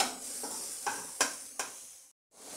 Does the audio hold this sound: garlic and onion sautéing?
yes